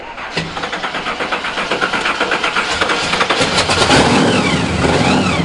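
A classic 1955 Chevy engine at a Dallas car show idles with a rhythmic loping pulse, then revs up into a loud, sustained roar, close and alone.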